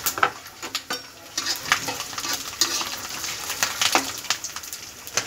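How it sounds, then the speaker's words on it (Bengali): Garlic fries in oil with cinnamon, cardamom and bay leaf for a tamarind pickle, making a continuous sizzle broken by frequent spoon scrapes and clinks against the pan, close and fairly loud. "তো রসুনটা আমার অনেকটা ভাজা হয়ে গেছে।"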